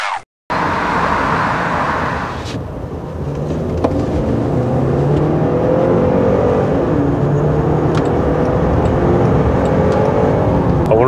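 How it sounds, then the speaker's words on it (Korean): A 2024 Land Rover Discovery Sport Dynamic SE compact SUV's engine roars loudly under hard acceleration from low speed, a steady close-up drone that rises in pitch after a brief break at the start. "저속에서 급출발할 때는 그래도 힘을 갑자기 내야 되다 보니까 엔진 그 왕한 소리는 엄청 들리긴 하네요"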